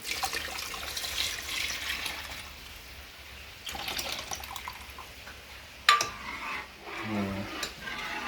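A gram flour and water mixture pours into a pot over a wood-fired clay stove, soft liquid splashing in bursts with a sharp clink of a utensil near the end.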